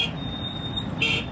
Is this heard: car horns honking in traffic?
yes